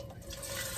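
Beef broth pours into a stock pot in a brief, steady liquid rush that grows slightly fuller as the stream continues.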